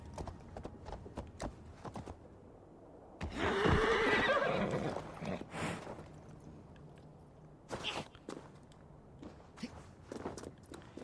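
A horse whinnies loudly in the middle, with clip-clopping hooves before and after, sounding synthetic and game-like, from the video game Assassin's Creed Valhalla.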